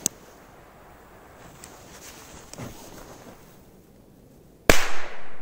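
Korsar 1 firecracker going off outdoors: a quiet stretch with faint rustling and small pops, then one sharp, very loud bang whose echo rolls away.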